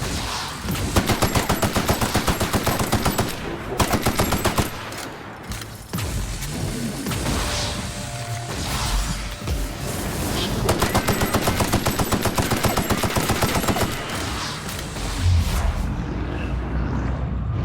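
Machine gun fire in a video game: repeated rapid bursts of automatic gunfire with rhythmic stuttering shots, broken by heavier booming stretches and thuds, loud and dense throughout.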